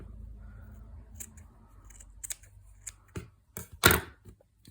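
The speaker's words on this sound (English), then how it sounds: "you can go in with your scissors, even if it's just to neaten it up a little bit" Scissors snip needle-felted wool while a felted dolphin fin is neatened, a handful of crisp close snips scattered over a few seconds, the last loudest, with no talk.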